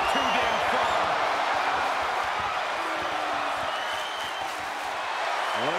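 Crowd noise in the wrestling video game WWE 2K23, a dense continuous roar of cheering and applause filling the arena with steady loudness throughout.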